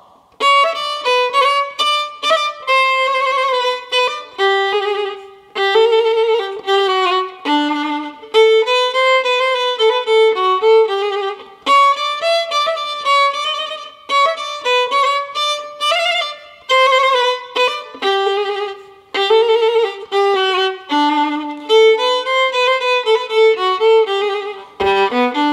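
Solo violin plays the second section of the Romanian dance tune Sârba creață, a quick, ornamented line of rapid bowed notes with short pauses between phrases, close and clear with no talking.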